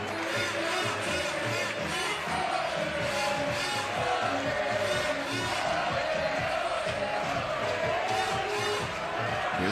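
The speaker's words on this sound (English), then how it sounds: "The crowd is definitely into it." A crowd at a FIBA 3x3 basketball Olympic qualifying quarter-final roars and cheers continuously, a dense, loud wall of shouts and whoops with no break.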